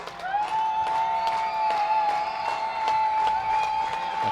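Fans clapping in rhythm at a minor league ballpark during a Sugar Land Skeeters vs. Somerset Patriots game, steady claps under a crowd murmur with a sustained tone running through it.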